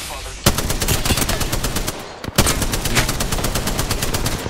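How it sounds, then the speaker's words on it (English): Rapid automatic gunfire from a shooter video game, two long bursts of fast repeated shots separated by a brief pause, loud and close, with a voice speaking beneath. "We're getting sniped from behind."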